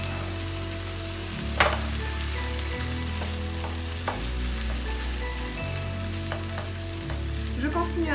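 Filling being mashed and cooked in a frying pan with a little added water, giving a steady low sizzle with occasional scraping and stirring knocks throughout.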